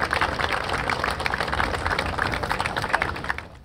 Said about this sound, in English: Let's give a huge round of applause to Teresa again.